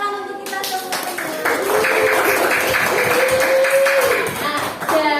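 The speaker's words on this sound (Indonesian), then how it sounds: "Tepuk tangan untuk kita semuanya." Applause from a class of students, lively clapping that swells and stays fairly loud for several seconds with voices mixed in, then tapers off.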